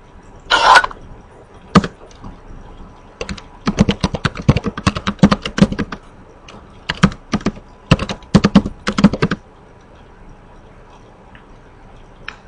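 Rapid bursts of computer keyboard typing as networking commands are entered, clustered clicks in several runs with short pauses between them, close and clear with no talking.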